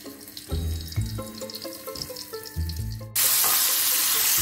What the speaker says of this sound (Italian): Mettiamo il baccalà nell'olio dalla parte della pelle